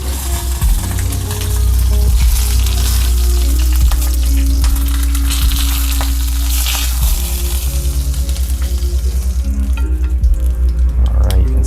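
Meat with skin sizzles loudly in a hot pan as it sears. A steady, close frying crackle holds throughout, over a low constant hum, with no speech.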